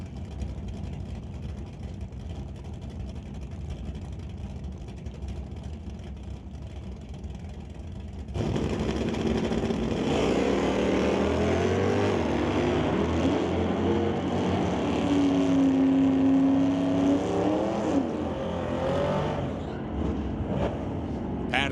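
Drag race cars including a 1989 Chevy S10 on an NHRA strip: a low idle rumble jumps to a loud sustained engine roar at launch, with shifting engine pitches and a steady tone through the run.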